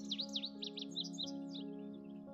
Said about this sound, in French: Cet endroit est le foyer de milliers d'espèces d'oiseaux dont les chants mélodieux résonnent dans la forêt